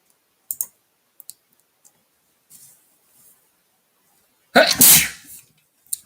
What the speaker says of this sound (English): I'm just going to be sneezing and snuffling.